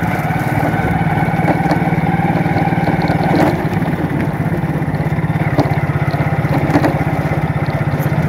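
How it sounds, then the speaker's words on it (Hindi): A motorbike rides across a historic bridge above a canal and river in Fatehpur, its engine humming steadily and close for the whole stretch, with a rhythmic low throb and faint wind noise. "ये पुल के ऊपर हमारी बाइक चल रही है"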